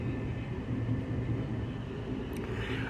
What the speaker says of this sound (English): I'm actually passing a train right now as we speak.